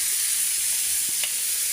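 Vegetables sautéing in reused frying oil with browned garlic: a continuous close hiss of sizzling with faint stirring, with no one talking.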